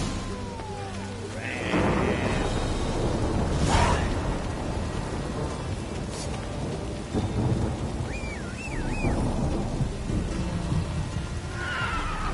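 Steady rain pours while thunder rumbles and cracks several times in The Witcher 3: Wild Hunt, with a horse's whinny briefly audible partway through.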